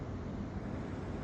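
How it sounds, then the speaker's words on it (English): Waterfall at Reventador, Ecuador, after heavy rain: a faint, steady broadband rush of falling water, continuous over the short stretch with no voices. "the waterfall behind me."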